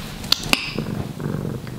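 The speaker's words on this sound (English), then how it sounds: "He's purring, at least." A cat purrs softly and close by in a home, a low rumbling purr broken by two sharp, brief clicks near the start.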